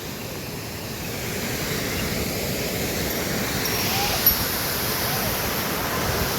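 A dangerous, roaring waterfall along the Amarnath Yatra route beside a partly frozen river pours in a constant broadband rush, steady and close, with no talk.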